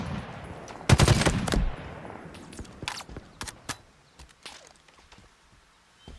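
A battle rifle in Halo Infinite fires a loud burst of close shots, followed by scattered sharper single and burst shots fading over several seconds with faint background clatter.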